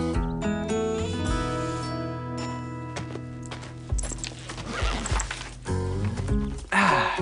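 Horses whinny loudly and hooves clip-clop in an animated French series about riding, with the shrill neighs rising and falling over the hoofbeats.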